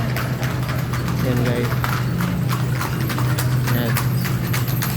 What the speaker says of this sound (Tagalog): Yan, mga kalesa na dumadaan.